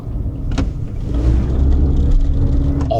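A KGM Torres hybrid SUV accelerates in eco mode, heard from inside the cabin, with a steady low engine and road hum building gently, plus a couple of faint clicks.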